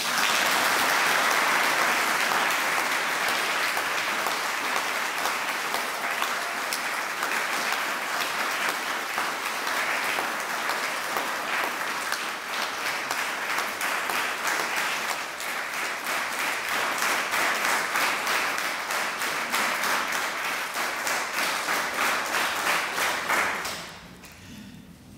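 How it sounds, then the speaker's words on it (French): A church congregation at a Sunday service applauds Suzanne, honoured for 29 years as parish choir president, in long sustained clapping that stays loud and dense for over twenty seconds before fading quickly at the end. "Nous pouvons l'applaudir quand même."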